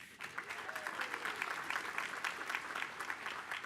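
Audience at an academic awards ceremony giving a round of applause, soft, even clapping that sounds distant and faint, with a brief voice near the start.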